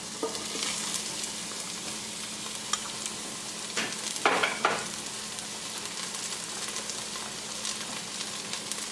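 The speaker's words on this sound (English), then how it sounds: "we're just going to quickly stir fry that for a couple minutes" Shiitake mushrooms and zucchini stir fry in a hot pan, giving a steady close sizzle with a short burst of spatula tossing in the middle.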